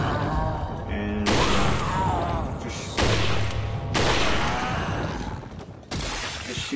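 Resident Evil 4 gameplay gunfire: several loud, sharp shots with booming explosions, arriving as abrupt bursts roughly a second or more apart, each followed by a decaying tail.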